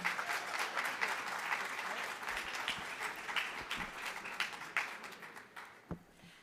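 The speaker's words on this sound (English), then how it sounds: "Please give our Deputy Mayor a round of applause, everybody." At a keynote event, an audience applauds a deputy mayor: fairly faint, distant clapping from a moderate crowd with a few sharper individual claps, thinning out toward the end.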